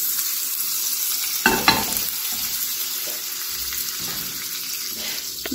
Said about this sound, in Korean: 그럼 프라이팬에 버터를 먼저 넣어주시고요. 불은 중불로 해주시고요.